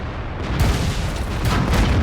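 World of Tanks cannon fire with HEAT rounds in the M6A2E1 heavy tank: a dense, continuous roar of booming gunfire and explosions, loud and close, with overlapping blasts and no clear gaps.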